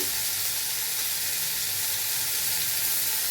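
Chopped tomato frying in a pan with salt and turmeric, giving a steady, close sizzle and hiss that runs unbroken throughout, with no talking.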